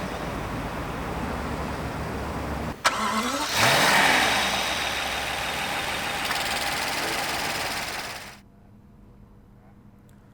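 Rolls-Royce Wraith twin-turbo V12 from 2016 cranking into life with a sharp start and brief rising flare, then settling into a smooth steady idle before cutting off, heard close with no talking.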